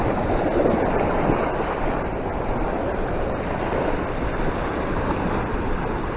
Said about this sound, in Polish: Morze ładnie szumi